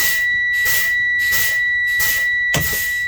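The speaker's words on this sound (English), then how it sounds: "I'm going to pump my brakes down until my lower pressure alarm comes on" In a truck cab during a daily brake test, a steady high-pitched low air pressure warning alarm sounds loudly and continuously while bursts of air hiss in rhythm as the brakes are pumped down.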